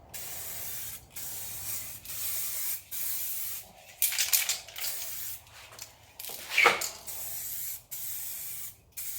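Spray paint can laying a test coat on the exterior of a Monte Carlo SS in repeated short hissing bursts with brief pauses between, close and fairly loud, with a few rattling handling noises mixed in.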